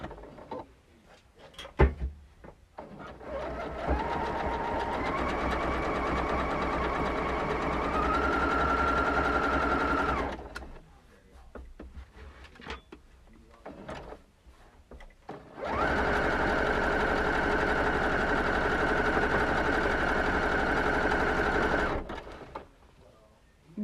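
A sewing machine runs zigzag stitches on flannel in two long steady bursts with a pause and clicks between, its motor whining close and loud, with a few brief handling knocks.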